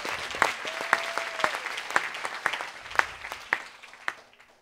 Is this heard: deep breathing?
no